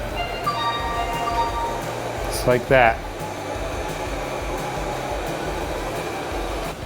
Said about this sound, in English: another thing you can do with this remote is I can turn the suction up